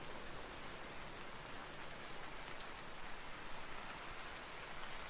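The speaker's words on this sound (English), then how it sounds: "the sound of the rain on the trees above is so good" Rain pattering on the tree canopy overhead in the survival game Vintage Story, a dense, constant hiss of drops that stays level and close throughout with no talking.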